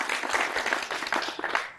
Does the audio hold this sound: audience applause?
yes